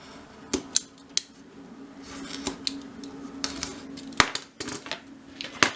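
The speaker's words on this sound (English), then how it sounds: "I'm now going to begin trimming this first one" Scissors or a craft knife trim strips of card panelling against a rule for a miniature Christmas room box, giving sharp snipping clicks at irregular intervals over a faint steady hum, close and fairly quiet.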